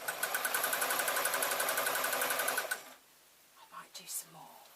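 Sewing machine stitching through several layers of cotton jelly roll fabric strips on a tote bag, a loud steady rapid needle chatter for under three seconds, then stopping, followed by faint handling sounds and a quiet voice.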